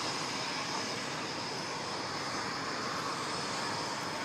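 An RAF multi-role fighter jet roars through a flying display at the Farnborough International Airshow, a continuous distant engine rumble and whoosh that holds steady with no voices.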